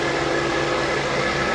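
A Toyota Chaser Tourer V (JZX100) with a 1JZ-GTE engine idles, producing a steady, close mechanical hum with a faint bearing-like rattle mixed into the drone.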